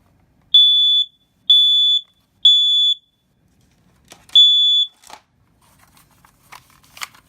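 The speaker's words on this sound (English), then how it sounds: "Smoke detectors." System Sensor MA12/24D smoke alarm under test, giving four loud, near, piercing electronic beeps of about half a second each, evenly spaced, followed by faint clicks and handling noise.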